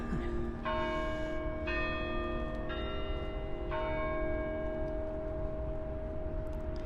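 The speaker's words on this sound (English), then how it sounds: "it was like the bells rung" Church bells ring out in a series of resonant, overlapping strikes at a Virginia Indian tribes celebration honoring Pocahontas, sustained tones layering over steady crowd or ambient noise.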